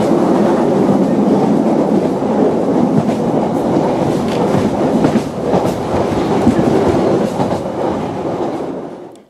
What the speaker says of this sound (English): every time the wheel hits a gap, it makes a sort of clunking sound